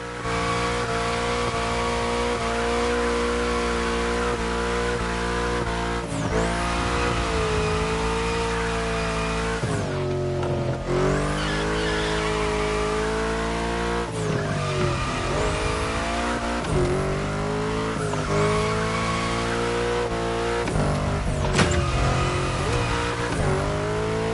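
Car drifting in the racing game The Crew Motorfest, its engine droning and shifting pitch continuously while tires squeal through long slides, loud and unbroken with no voices.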